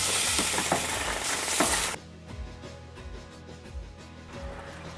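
Food sizzles and fries loudly in a pan for poutine gravy for about two seconds, then the sizzle drops to a quieter bubbling while a utensil scrapes and stirs in soft, uneven strokes.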